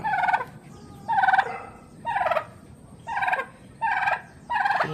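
Geese on a farm honk in six loud, evenly spaced calls, each a short nasal blast, over a low background murmur.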